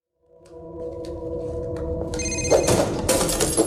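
A telephone rings loudly and alone, its bright electronic tones building and layering into a dense, insistent ringing that grows fuller toward the end.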